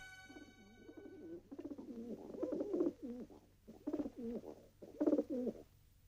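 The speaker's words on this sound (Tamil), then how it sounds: "என்ன வீடெல்லாம் ஒரே புறாவா வளர்க்க ஆரம்பிச்சிட்டீங்க?" Pigeons kept inside a house coo in repeated soft, throaty bouts of rising and falling phrases, close by, over a steady low background hum.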